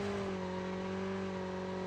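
A motorcycle engine in the Call of Duty Mobile video game hums at a steady, fairly quiet pitch for under two seconds, a continuous drone with no talk over it.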